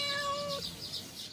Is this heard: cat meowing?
yes